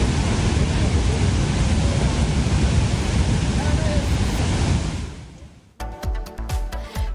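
A fast-flowing, flooded river in Manali rushes as a loud, continuous roar close by, then fades out abruptly near the end as a different, busier sound takes over.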